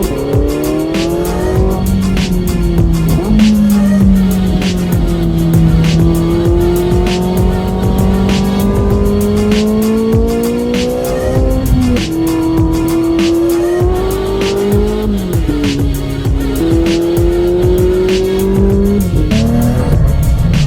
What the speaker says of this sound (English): we do have a 918 from Porsche Santa Clarita, and we're going to go do a couple hot laps in